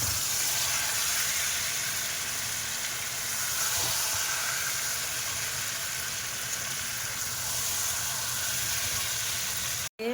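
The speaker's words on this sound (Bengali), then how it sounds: "মশলার থেকে তেল ছেড়েছে, তো এবারে মাছ দিয়ে দিচ্ছি।" Fried fish slipped into hot spiced oil in a home kitchen gives a steady, even sizzle and hiss that runs unbroken and fairly quiet, ending in an abrupt cut.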